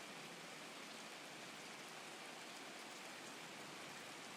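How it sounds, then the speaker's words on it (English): Rain falls steadily over an NFL stadium at Gillette Stadium in Foxborough, heard in an EA Sports football video game as a faint, even hiss of rainfall with no talking. "yes, the rain is falling now, and it is supposed to continue to fall throughout this game"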